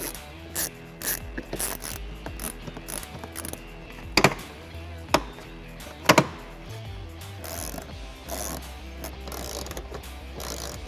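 A socket ratchet clicks fast and continuously as fasteners come off the passenger-side underbody of a 2021-2025 Chevy Trailblazer, close and loud, with a few sharp metallic knocks and no speech.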